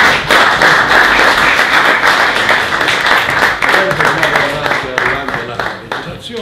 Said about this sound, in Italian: Accogliamo anche Enzo con un applauso naturalmente.